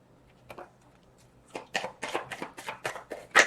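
Tarot cards being shuffled by hand, a couple of soft riffles followed by a quick run of crisp, close papery flicks and slaps, ending with a sharper snap, with no talking.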